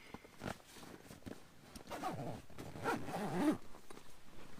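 A zipper on a canvas double swag tent is pulled in several short, rasping strokes, close and fairly quiet at first, then building into longer, louder zips before ending.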